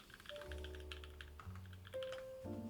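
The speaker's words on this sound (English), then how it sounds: "Terrible typing." Keyboard typing clatters steadily up close, quick irregular keystrokes running throughout with no talk.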